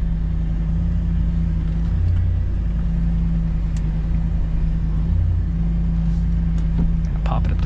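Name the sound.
Ram TRX pickup truck climbing an off-road trail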